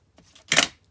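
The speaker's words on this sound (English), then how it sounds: "sorry about that horrible noise of the scissors clanging down" A single sharp metallic clatter rings out loudly for a moment, like scissors dropped onto a desk, preceded by faint soft taps.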